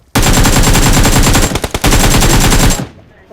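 Loud, close automatic gunfire in the PUBG video game, one long rapid burst with a brief break near the middle before it stops.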